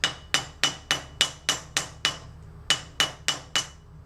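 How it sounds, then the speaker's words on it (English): A rawhide hammer with no lead weighting strikes metal being formed over a mandrel, a dozen sharp, ringing blows in an even rhythm with one short pause, close and clear with no voices. "my hammer is a rawhide hammer with no weight in it, no lead in it. I'm just forming that."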